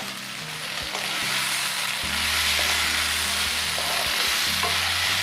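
Potatoes and cumin for jeera aloo sizzle steadily in a hot pan, with periodic scraping stirs and soft clinks over the constant frying hiss, close and moderately loud.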